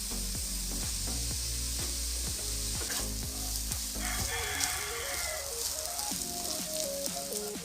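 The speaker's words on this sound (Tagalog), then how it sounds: "Matapos igisa yung bawang at sibuyas, ilagay na ang rice." Garlic and onion sauté with rice in a hot pan, a steady sizzle with scraping and stirring strokes and clinks of a utensil against the pan throughout, close and fairly loud, no talking.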